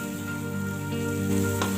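Bird's eye chilies frying in oil in a pan, a steady close sizzle with a constant hum underneath, no talking.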